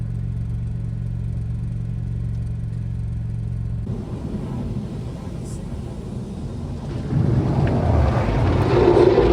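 Interior of a car idling and creeping through traffic near a drive-through, a low droning rumble and vibration hum that shifts partway through, then swells louder toward the end as the engine works harder.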